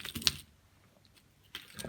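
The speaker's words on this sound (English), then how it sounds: "Okay, I'm going to throw some dice. These are my geomancy dice." Geomancy dice thrown and clattering, heard as a burst of quick, faint clicks at the start, a quiet pause, then another short rattle near the end.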